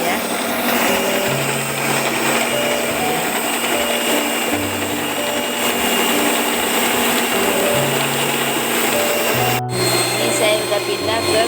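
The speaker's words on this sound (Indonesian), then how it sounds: "kocok dulu lemaknya, yaitu butter mixnya tadi ya, dengan sebagian gula. Pertama dengan kecepatan rendah dulu ya" An electric mixer whirs steadily at low speed, beating butter mix with sugar for lapis legit cake batter, a constant motor hum with shifting pitch, under occasional talk.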